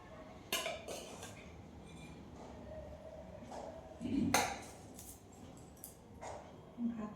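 Dishes and utensils clink softly while rice is served at home, a few sharp scattered clinks and scrapes in a quiet kitchen with faint background noise.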